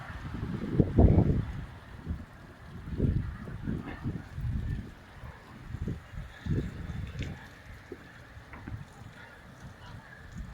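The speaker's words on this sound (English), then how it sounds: "the geese are going nuts. I can hear so many geese." Many geese honk in a noisy chorus during a cold storm in England, with repeated calls of varying loudness, some near and others farther off, over a windy background.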